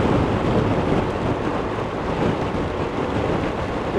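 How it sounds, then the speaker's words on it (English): Wind gusts hard across an exposed stretch of road while riding, a loud, constant buffeting roar against the helmet and collar with a deep rumble and no breaks or speech. "This patch of road's always a little bit exposed, so the wind tends to gust a little bit."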